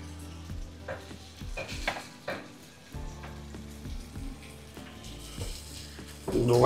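Bombil fish fry in a pan with a steady sizzle, interrupted by scraping and clatter as the pieces are flipped, close and moderately loud, without speech.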